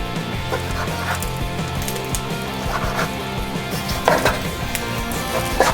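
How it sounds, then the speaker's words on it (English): A knife chops through raw chicken breast on a cutting board, giving repeated irregular thuds and taps over a continuous kitchen background. "Now let's cut up the chicken breast."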